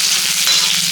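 A brief burst of steady, close sizzling as chopped onion fries in mustard oil heated in a kadai, with no voices over it.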